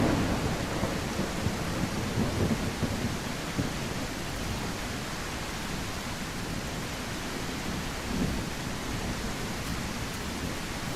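Rain and thunder in the dinosaur survival game The Isle: a constant hissing downpour with low rolling rumbles underneath, steady and enveloping throughout with no voices.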